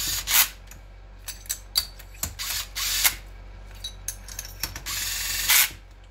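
A locking tool ratchets and clicks during a Stihl MS461 chainsaw cylinder install, a close series of short sharp mechanical clicks and rattles in irregular bursts with brief quiet gaps.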